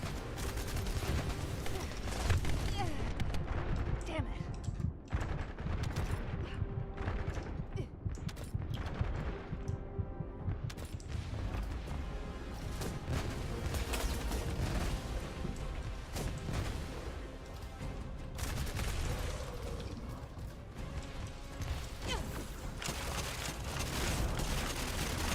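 Smithereens weapon fire in The First Descendant, a dense continuous barrage of gunshots and booming impacts layered with game effects, loud and sustained.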